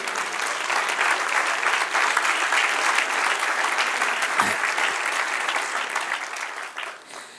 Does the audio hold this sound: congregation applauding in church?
yes